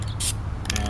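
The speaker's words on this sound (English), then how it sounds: "so I finished spraying the green" Short hisses of spray paint in Italian Olive green misting onto a clone trooper helmet, two brief bursts about half a second apart, close and fairly loud over a low background hum.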